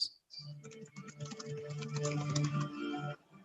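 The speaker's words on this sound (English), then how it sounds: "Who's typing while I'm talking?" Rapid clicking of keys on a computer keyboard in a dense, continuous burst lasting about three seconds, close and clear, with no talking over it.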